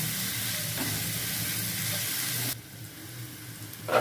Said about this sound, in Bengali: আগে ভেজে লাল লাল করে ভেজে নেবো